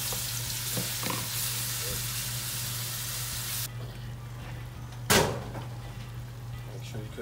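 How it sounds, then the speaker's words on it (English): Onion puree cooking for jollof rice gives a steady, close sizzle throughout. The sizzle is quieter after a few seconds, and a single knock or thump is heard near the end. "The onion puree. Let it cook until it get brown."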